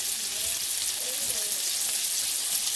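Spruce grouse breasts sizzle steadily in a hot pan of butter, a constant bright crackling hiss, close and even throughout, with no one speaking.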